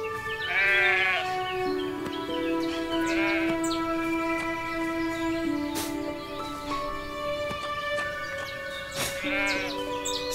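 Sheep bleating in the farming video game Everdream Valley, several wavering bleats repeating over a steady musical background, with no talk.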